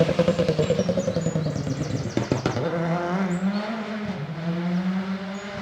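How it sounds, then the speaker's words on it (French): A rally car on a stage at the Rallye Côte Fleurie 2024 roars past with rapid engine pulses, then a harsh transition into a sustained droning engine tone, loud and fairly close, with faint bird chirps above and no speech. "Il a bien freiné, ça s'est entendu."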